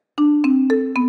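Four marimba notes struck with the mallets lifted off the bar, each ringing full and sustained into the next, evenly spaced and close, with no voices.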